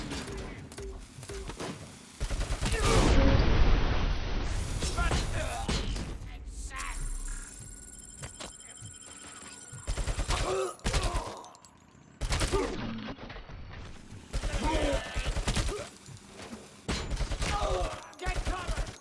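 Bursts of gunfire and heavy impacts from a RoboCop shooter game, loud at first and then recurring in short clusters, with shouting voices over the shots.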